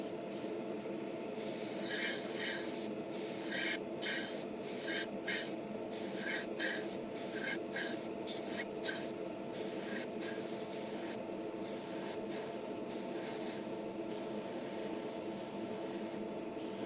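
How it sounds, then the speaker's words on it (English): Short, repeated hisses of spray paint applied to an artwork, close and rhythmic, over a steady background hum. "as I started spraying it, I'm like, all right, well, the transparent's pretty wicked."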